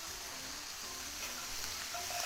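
Mushrooms sizzling in butter in a frying pan, a steady close crackle and hiss that runs on without a break, with no one talking.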